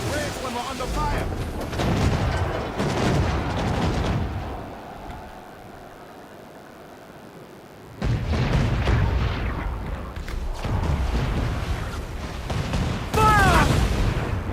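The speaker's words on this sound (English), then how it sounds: "They're firing on us!" Heavy ship cannon fire in Assassin's Creed Black Flag booms in repeated loud blasts during a naval battle, with a quieter stretch midway and crew voices shouting amid the barrage.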